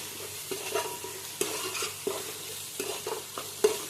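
Freshly ground ginger garlic paste fries in a pan for a country chicken curry, with a soft, steady sizzle. A spoon stirs and scrapes the pan at intervals, making quiet clinks and scrapes.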